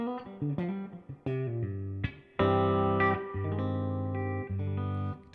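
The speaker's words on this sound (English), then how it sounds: "Guitar sounds good." Electric guitar played through effects units with distortion and chorus, a run of plucked notes followed by loud sustained ringing chords, played close and alone with no talk.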